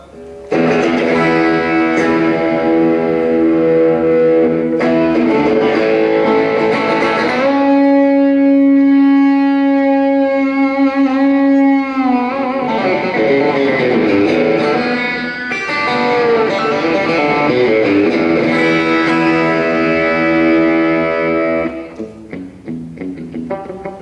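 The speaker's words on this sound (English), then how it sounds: "can sound super twangy if you want it, or just adding a distortion pedal." Electric guitar, a Taylor T5, played through a distortion pedal: gritty, sustained chords and notes ring out loud, with a long held bend in the middle.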